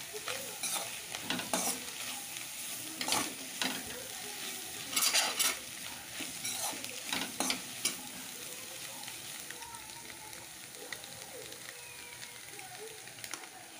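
Ingredients fry quietly in a pan before noodles go in, with a low sizzle and repeated scraping, clinking stirring strokes that come in irregular bursts and fade later.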